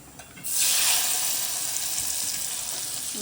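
Tempering for a Telugu thotakura stalk and leaf pulusu hits hot oil with a sudden loud hiss that settles into a steady, close sizzle lasting several seconds, with no talking.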